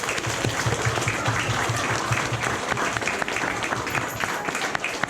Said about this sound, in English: Boys and girls, another big hand for your audience.